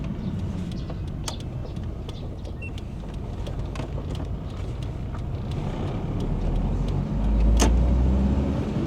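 Steady road and engine rumble inside a 2009 Volkswagen Santana with a 1.8-litre naturally aspirated four-cylinder petrol engine and five-speed manual, swelling slightly as the car accelerates, with faint clicks and wind noise and no talking.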